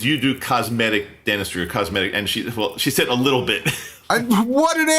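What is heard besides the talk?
No distinct noise like a dog, phone or traffic.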